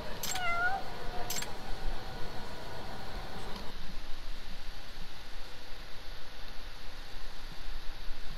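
Cat meowing in the Judgment video game: two short, clear meows near the start over a steady low background hum that continues alone afterward.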